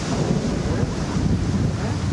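Gusting storm wind with a steady roar of heavy rain during a thunderstorm over Chattogram city, continuous and fairly loud throughout with no clear breaks.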